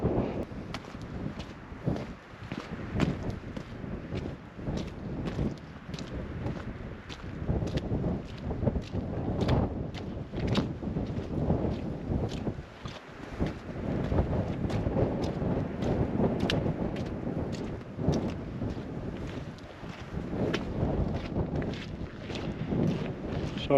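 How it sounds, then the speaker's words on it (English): Strong wind buffets a GoPro microphone fitted with a media mod while hiking in hilly countryside, a constant low rumbling roar with irregular gusty thumps throughout, close and loud. "It's very windy, but usually pretty good with this media mod I've got on this GoPro."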